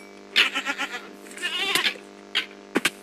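Goat bleats from a modded Minecraft game, a run of short wavering bleats in quick succession followed by a longer drawn-out one, then a few sharp clicks near the end, loud and close.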